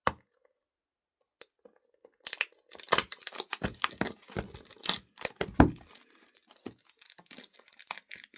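Crisp plastic shrink-wrap on a manga volume being torn and crinkled open, a burst of irregular close tearing and rustling crackles after a near-silent start, no talk.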